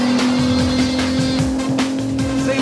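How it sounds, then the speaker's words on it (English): A VW Golf R32 racing engine in a video game drones loudly and continuously, its pitch rising and falling with quick blips as gears change. "See those engine revs flying, blipping on the way through."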